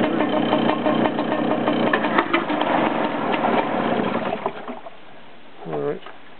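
A boat engine runs in reverse gear at idle, a steady mid-pitched rumble that continues for several seconds before dropping away, with people talking over it.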